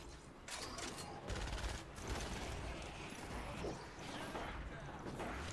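Automatic gunfire from defenders in Fortnite Save the World, rapid bursts rattling in clustered spurts with pauses between, set against busy game noise at moderate level.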